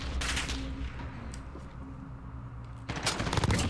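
M4 rifle fire in Call of Duty Modern Warfare (2019) comes in rapid automatic bursts, one near the start and a louder one near the end, over a low rumbling game soundscape.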